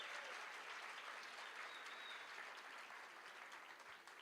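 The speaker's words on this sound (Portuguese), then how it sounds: "Você pode aplaudir a Jesus aí, irmãos?" A church congregation applauds during a worship service, a faint, steady wash of many hands clapping that tapers slightly at the close.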